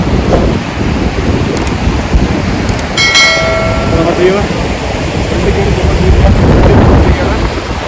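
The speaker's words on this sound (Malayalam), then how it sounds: "മൈക്കില്ലാത്തതുകൊണ്ട് വെള്ളത്തിൻ്റെ സൗണ്ടുകൾ കൂടെ വരും" Rushing mountain stream of ice-melt water on the Hampta Pass trek, a loud, continuous roar close to the microphone, with wind buffeting and someone speaking over it.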